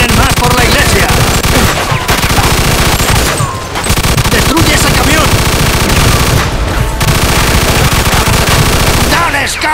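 Machine gun fire in the Mafia II video game, loud sustained bursts of automatic shots with brief pauses, close and dense, with a voice shouting over it.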